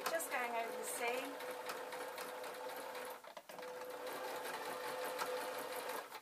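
A sewing machine runs steadily over a seam while a broom is converted into a mop, with one brief dip partway through. A person speaks over the machine noise.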